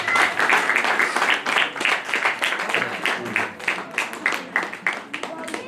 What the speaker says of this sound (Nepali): ल ताली बजाइदिनुहोस् उहाँलाई।